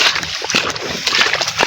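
Water sloshing and splashing loudly and continuously as it runs along a drainage channel, close by and steady, with no voices over it.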